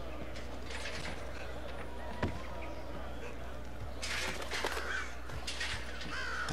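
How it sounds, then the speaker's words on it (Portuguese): Agitated crows cawing in the video game Thief, scattered harsh calls over a steady low ambient hum, growing busier toward the end. "os passarinhos estão muito nervosos"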